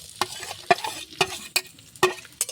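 Garlic, onion and green chilli frying in mustard oil in a pan, with a quiet sizzle under a regular run of sharp spatula scrapes and taps, close and without talk.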